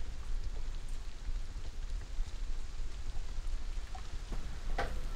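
Steady rain falls outdoors in a dense, even patter, with a few sharper drops and clicks close by and no voices.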